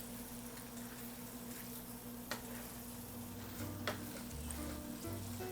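Steak sizzles in a pan, stir frying with peppers and broccoli: a steady, moderately quiet crackling hiss runs throughout, with a couple of faint clicks and a low hum underneath and no voices.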